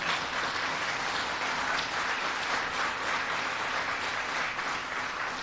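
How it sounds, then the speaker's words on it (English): A large audience at a Vice President Mike Pence event on tax reform gives a round of applause, a dense, even roar of clapping that stays loud and unbroken throughout. "Can you join me in giving a big round of applause to the whole team here at Worldwide and Terry Dodson?"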